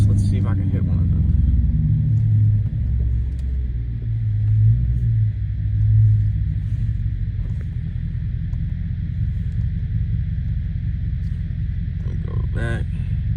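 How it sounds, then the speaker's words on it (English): Dodge SRT8 with a 6.4 V8 accelerating hard from 0 to 60, a deep rumbling roar swelling and surging steadily, heard from inside the car. "Maybe we'll do like another little pull real quick. I was trying to do 0 to 60"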